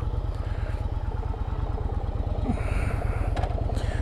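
A Yamaha Virago 750 motorcycle engine runs close by with a steady, rapid low thumping beat and slight mechanical clatter, with no talking.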